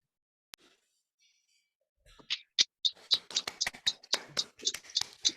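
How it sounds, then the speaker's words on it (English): An audience bursts into loud applause after a motivational talk, beginning after a near-silent pause with a few isolated claps and building into dense, close, sustained clapping. "Ooh, loud applause"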